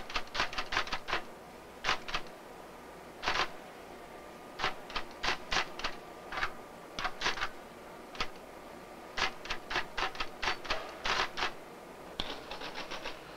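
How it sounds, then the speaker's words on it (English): Keys tapped on a computer keyboard to enter a short sentence, heard as quick bursts of clicks in separate clusters with brief pauses, close and fairly faint over a steady room hum, with no voices. "I'll type this."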